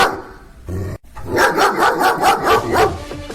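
Minecraft dog barking in a rapid run of about seven loud, evenly spaced barks, close and clear, preceded by a short growl-like sound and a brief gap.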